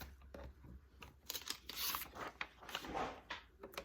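Scissors cutting out a shape drawn on isometric paper, with soft crunchy snips and rustling paper heard up close throughout, fairly quiet and with no talking.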